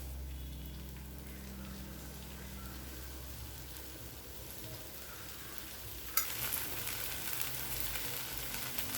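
Ragi rava dosa fries in oil on a hot pan with a soft, continuous sizzle that swells into a brighter, louder hiss partway through.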